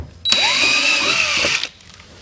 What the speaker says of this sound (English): As you're doing this, you do want to keep your drill speed low, or you do risk melting the plastic